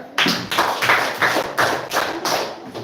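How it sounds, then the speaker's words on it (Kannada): Applause for quiz teams at a science day school quiz programme: a small group claps in uneven rhythmic bursts, close and fairly loud, with no talk. "ಅವರಿಗೆ ಚಪ್ಪಾಳೆ"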